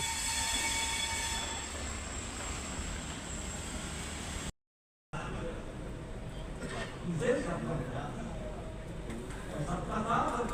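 Rail cars of a Hisar–Hyderabad express train rumbling and screeching as it comes to a stop, with a brief gap in the sound and people talking faintly nearby.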